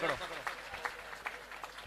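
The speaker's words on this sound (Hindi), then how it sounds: "एक बार पंकज के लिए जोरदार ताली बजाओ" Audience at an Arya Samaj gathering gives scattered, light applause for Pankaj after he is garlanded. The clapping is quiet and somewhat distant, with a brief voice at the start and a few separate claps popping through.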